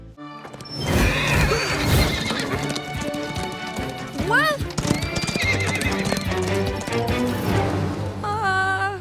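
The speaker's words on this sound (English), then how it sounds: "right when the buyers were coming to buy the horses, they escaped." Escaped horses neighing and galloping in an animated series, repeated loud whinnies over busy hoof clatter and music, with a brief spoken line in between.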